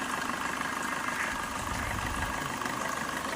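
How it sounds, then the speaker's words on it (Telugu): A Maruti Swift Dzire ZDi diesel car idling, a steady low engine rumble with constant hum and a slight rise in low-end throb partway through, nearby and unaccompanied by talk. "ఇంజిన్ సౌండ్ కూడా మీకు వినిపిస్తూ ఉన్నాను"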